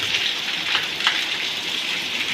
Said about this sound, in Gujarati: વરસાદ આવે છે બહુ.